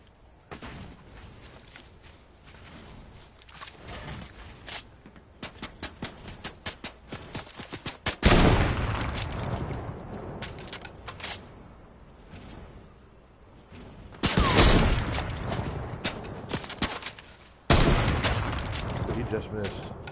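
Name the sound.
gunfire in the video game Fortnite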